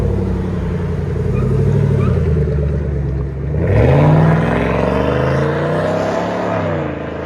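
Straight-piped 2023 GMC Yukon AT4 with a 5.3-liter V8 rumbles loud and close, a deep steady idle swelling into a throaty rev near the middle before settling back to a rough burble.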